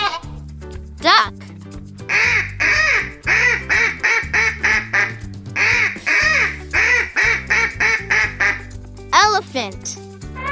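A duck quacks in quick repeated bursts, two runs of many sharp nasal quacks over a steady music bed, with short spoken words at the start and end.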